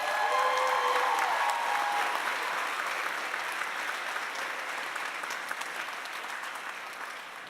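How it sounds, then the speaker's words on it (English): A large audience at a graduation commencement ceremony at Lincoln Center applauds steadily, loud at first and slowly fading over several seconds, with no talking. "Graduates, please give your loved ones a very well-deserved round of applause."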